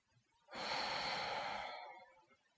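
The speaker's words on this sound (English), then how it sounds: "Close your eyes and just take some breaths here." A single slow, deep breath taken while seated during a chair yoga session for desk workers, close and fairly loud, rising and then fading over about a second, with quiet around it.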